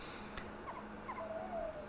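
A dog whimpers in the video game Maid of Sker, thin high whines repeating faintly and close over a quiet low hum, with no talk.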